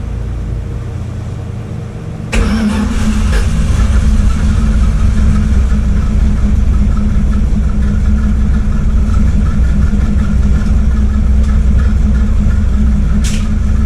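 A 1978 Dodge Ramcharger, abandoned for 17 years, cranks and fires up, then settles into a loud, steady, rumbling idle close by, with a sharp click near the end.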